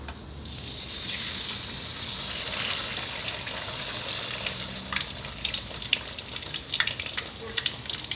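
Snakehead fish sizzles steadily in hot oil in a wok, a dense crackling hiss with sharper pops growing more frequent toward the end.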